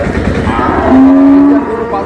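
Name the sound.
cattle mooing at Ranigonj cattle market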